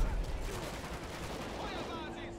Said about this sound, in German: Wie laut die Explosionen sind.